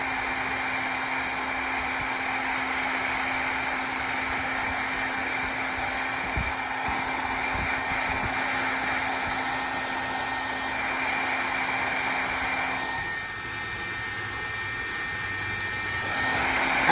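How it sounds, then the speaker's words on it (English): A heat tool blows hot air onto a fabric butterfly mask holder in a tweed pattern, making a loud, steady whirring hiss that briefly shifts in tone near the end, with no talking. "heat tool is going to make a lot of noise, but this is only going to take just a minute"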